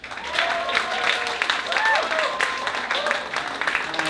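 Live music venue audience applauding, a dense spread of clapping from the crowd with scattered voices and cheers mixed in.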